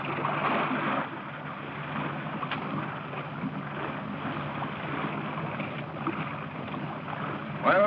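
A small boat motors across open water toward a salvage ship, giving a steady, moderately loud engine drone mixed with wash and wind noise, continuous throughout.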